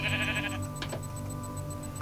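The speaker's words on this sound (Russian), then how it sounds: "она красная, красная овца, прикинь." A red sheep in Minecraft gives a short bleat at the start over steady background game tones, with no talking.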